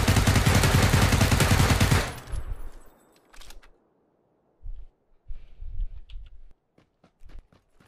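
A burst of rapid submachine-gun fire in a first-person shooter, loud and continuous for about two seconds, then trailing off into scattered footsteps and clanks.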